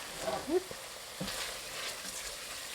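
A tomato and garlic soup simmering down in a pot gives a steady, soft bubbling sizzle throughout, with a brief stir or utensil scrape near the start and no talking.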